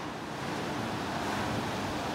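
Gentle ocean surf on a beach in Destin, Florida, early in the morning with small waves, heard as a steady, continuous broadband wash with light wind noise and no voices.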